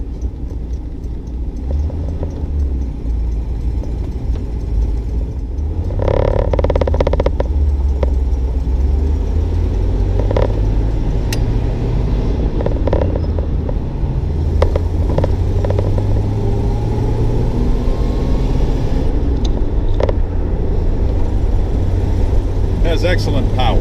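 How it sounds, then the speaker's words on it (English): A 1937 Packard 120C convertible coupe drives along with a steady low engine rumble and road noise throughout, swelling slightly as it accelerates, while a person talks over it. "You just step on it and it goes."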